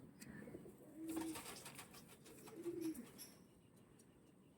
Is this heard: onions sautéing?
no